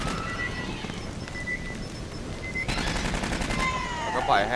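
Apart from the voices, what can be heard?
gunfire in the video game Aliens: Colonial Marines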